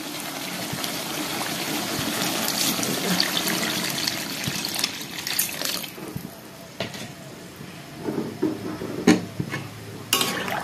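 Curry broth is poured into a pot of softened potato, eggplant and radish for an egg curry, a splashing, trickling pour with clinks of pot and utensil, busier early and then settling into scattered knocks.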